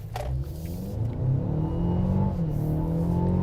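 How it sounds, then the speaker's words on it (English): A car with a 221-horsepower 2-liter four-cylinder engine accelerates hard in sport mode, its engine note climbing loud and close in a steady rising drone over about three seconds. "This car has 221 horsepower from a 2-liter 4-cylinder engine"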